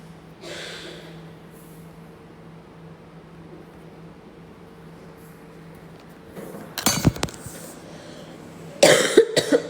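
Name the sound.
coughing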